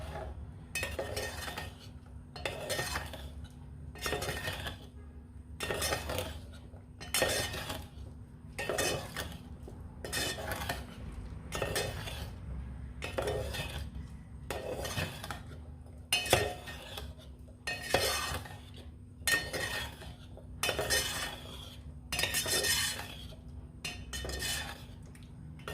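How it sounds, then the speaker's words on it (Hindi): A metal spoon scrapes and clinks against a cooking pot in repeated bursts while chicken kunna is stirred, roughly a dozen rhythmic strokes separated by brief pauses over a low steady hum, close and moderately loud with no talking. "अब इसमें आपने थोड़ी देर चम्मच हिलाना है"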